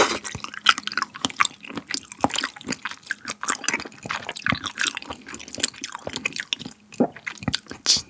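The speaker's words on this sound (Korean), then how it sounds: "저는 가리비 먹어볼게요" Steamed red scallops dipped in spicy buldak sauce being chewed close to the mic, with wet squishing and dripping bites in an irregular rhythm and no talking.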